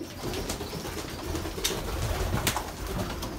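Young pigeons in a loft cooing and murmuring close by, with soft repeated coos and a few sharp flutters or clicks over a steady low rumble of birds.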